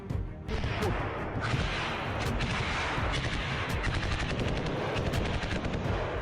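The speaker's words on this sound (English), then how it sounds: "Explosions and gunfire can be heard" Rapid bursts of gunfire crackle continuously with heavy booming blasts mixed in, loud and chaotic throughout, in a firefight between Ukrainian and Russian forces at Bakhmut, Ukraine.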